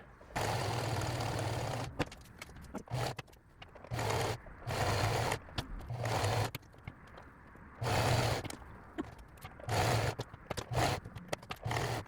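A sewing machine stitches fabric while a dress is remade into a two-piece set, running in repeated bursts of fast mechanical whirring and clatter separated by brief pauses. It is close and fairly loud.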